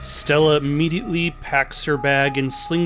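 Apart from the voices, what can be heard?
None of the usual background noises is heard.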